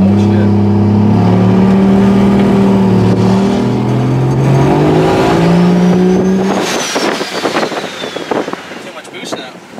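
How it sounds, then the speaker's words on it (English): A 1967 Checker Marathon with a swapped Vortec 4200 engine and an intercooler blown loose revs hard with loud, sustained rising engine tones, then the note breaks into choppy stuttering bursts as it hits the boost cut, with wind noise on the microphone. "So it's probably hitting the boost cut?"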